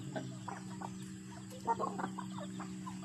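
Native chickens cluck softly in a low, scattered series over a steady hum, fairly faint and distant, with no talking.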